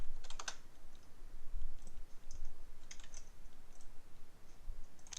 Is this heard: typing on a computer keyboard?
yes